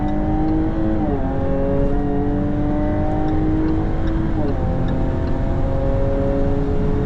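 A 2017 Jaguar F-type with a 340 hp 3.0 supercharged engine accelerates hard on an autobahn. A loud, steady engine drone climbs in pitch and drops twice at gear shifts, heard from inside the car without talk.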